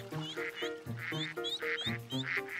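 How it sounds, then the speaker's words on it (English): Cartoon ducks from a duck family quack in rapid, repeated bursts, loud and close, with no talking. "Ducks! It looks like they're having a family picnic, too."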